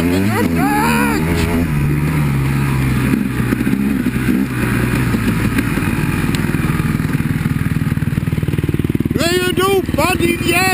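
Enduro motorcycle heading into a Swedish forest in Småland, its engine droning steadily and revving throughout, with voices talking over it and brief whining rises near the start and end.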